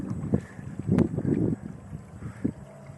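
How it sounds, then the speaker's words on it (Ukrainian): Wind blowing outdoors near the water while a fishing bait boat sits nearby, a low rumbling gusty rush that swells around the middle and then eases, moderately loud with no talk. "Знову на сьогодні вітер і такий нормальний дує."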